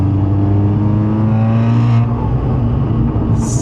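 A 490 hp turbocharged Audi S1 engine revs and accelerates with a deep, loud exhaust roar, close up, rising then easing off; no voices.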